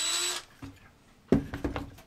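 A battery-powered drill or screwdriver whirs briefly, stops, then runs again in a couple of short close bursts with brief pauses between.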